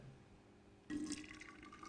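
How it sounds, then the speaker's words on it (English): Hot water pours from close by onto coffee and sugar in a cup, a sudden steady gurgling stream that starts partway through and carries on to the end over a faint background hum. "enough hot water to dissolve the sugar and coffee is added"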